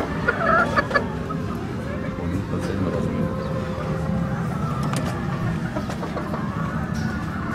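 Chickens clucking on a ranch, several birds calling in short bursts over steady farmyard bustle and background noise, with people talking nearby.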